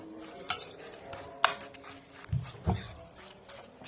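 Vegetables being stirred and tossed in a pan, with a few sharp utensil scrapes and clatters against the metal and low thuds, spaced irregularly at close range.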